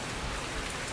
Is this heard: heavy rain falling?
yes